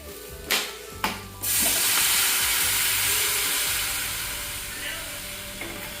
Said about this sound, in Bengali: এখন আমি এর মধ্যে দিয়ে দেবো হচ্ছে জল।